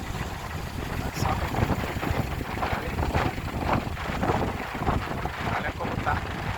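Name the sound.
strong wind by the sea with boats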